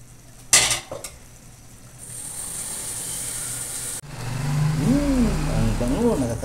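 Litson paksiw, a Filipino pork stew, being stirred in a pan, with scraping and a steady sizzle that grows louder partway through while a voice talks over it.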